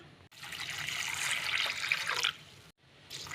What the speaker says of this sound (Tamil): தண்ணி ஊற்றி ரெண்டு மூணு தடவை கழுவிட்டு